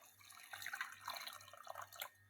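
Corn semolina is rinsed with water in a home kitchen, heard as quiet trickling and soft splashing in short, uneven bursts, close but faint.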